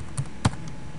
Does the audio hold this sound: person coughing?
no